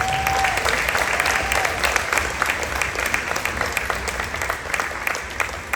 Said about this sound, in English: So let's give this young man one more round of applause.